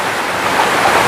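Heavy rain on a mountain in Pangasinan, dense and steady, a loud broadband wash of falling water that holds the same level throughout with no talk.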